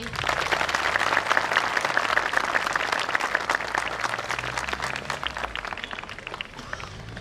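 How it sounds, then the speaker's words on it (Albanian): A crowd at a traditional tournament event in Gjurkovc claps for the organisers and sponsors, steady loud applause that holds for several seconds and slowly thins toward the end. "meritojnë mirënjohje dhe duartrokitjen tuaj"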